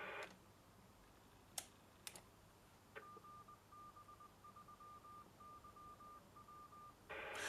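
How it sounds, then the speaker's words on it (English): Amateur radio repeater access tone on the 2 metre band, a steady pure beep pulsing in short even bursts for several seconds over a hiss of radio noise, preceded by a few sharp clicks, with no talk. "Once you transmit on this frequency, you should hear an access tone."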